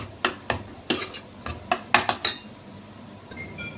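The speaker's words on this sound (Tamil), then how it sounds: "இந்த டைமில் நான் கொஞ்சம் தயிர் ஆட் பண்ணிக்கிறேன். இதை நல்லா மிக்ஸ் பண்ணிடுங்க." A spoon stirs yogurt into mutton paya in a metal pot, giving about eight sharp clinks and scrapes against the pot in an uneven rhythm, close and moderately loud, then a quiet stretch.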